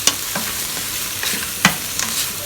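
Sliced yams being stirred in a pot for rice-cooker yam rice with chicken and mushrooms, giving a few scraping, clattering strokes with a faint sizzle between them, close by and alone with no talking.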